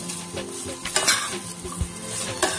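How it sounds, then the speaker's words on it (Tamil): Shredded cabbage for a no-onion, no-garlic, no-tomato chutney sizzles in a pan while a spoon stirs and scrapes against the metal, with a few sharp clinks over a steady frying hiss. "பாருங்க, ஆல்மோஸ்ட் நம்மளோட முட்டைக்கோஸ் நல்லா வதங்கிருச்சு."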